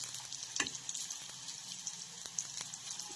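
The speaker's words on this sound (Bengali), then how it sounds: "আমি তাইলে পকোড়াগুলো সবকটা ভেজে নিই" Soybean pakoras frying in hot oil, a steady close sizzle with occasional sharper pops and spatters running throughout, no voices.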